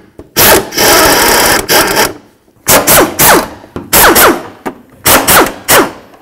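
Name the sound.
power tool removing radiator mounting bolts, Chevy S-10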